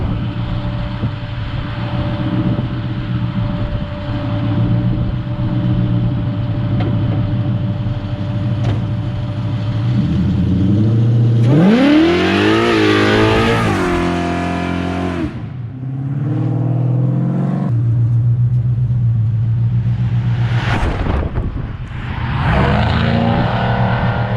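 A Coyote-swapped Ford Fairmont on slicks accelerates hard on a street quarter-mile run, with a loud, close engine rising through rapid gear pulls, cutting out briefly between surges.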